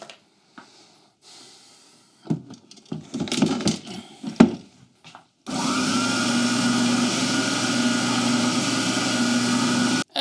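A Triton spindle and belt sander starts up after several handling clunks and knocks, then runs with a steady loud motor whine and hum for the last few seconds, close by.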